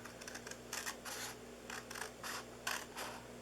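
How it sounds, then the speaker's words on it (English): Large scissors slicing across the top of a handmade Christmas gift bag, a series of short rasping snips in quick bursts, close and fairly quiet over a steady low hum. "let me grab my big scissors so I can go all the way across"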